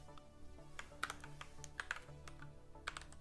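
Fingers type Python code on a computer keyboard, tapping out crisp, irregular keystrokes. A few louder clacks stand out against a quiet room hum.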